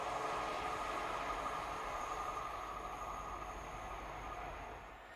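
A Class 87 electric locomotive hauls a Wolverhampton to Euston service through Cheddington with a steady, broad rumble and wheel noise. The sound slowly fades as the train passes.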